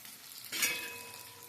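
Onions and green chillies go into a pan of hot oil, setting off a brief, fairly quiet sizzle that flares suddenly and then settles into a faint steady frying hiss.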